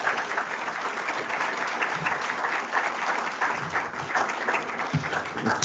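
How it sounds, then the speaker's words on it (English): An audience applauds after a Welcome to Country at a 3Bridges community event, a sustained, even wash of many hands clapping at moderate distance that stays level throughout, with no voices on top. "Could we have another round of applause for Uncle Glenn and young Glenn?"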